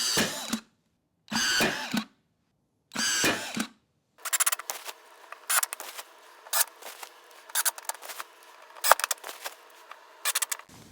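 A power drill drives screws into wood while a basement doghouse is assembled, giving a run of short, sharp whirring bursts after some quiet opening sounds, close and fairly loud with no talk.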